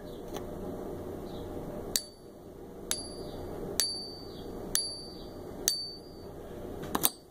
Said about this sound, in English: these have just a different ping